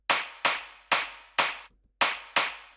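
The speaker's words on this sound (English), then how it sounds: "Afterwards, I add in another clap loop that sounds like this." A clap loop from a progressive house drop sounds as sharp, bright claps in an even rhythm, six hits with one brief gap, each with a short decaying tail, dry and alone.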